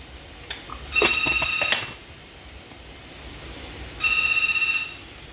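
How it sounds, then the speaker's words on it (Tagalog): A phone rings with an incoming call in a kitchen, two bursts of a trilling electronic ringtone about three seconds apart, clear and close, with no talk over it. "May tumatawag."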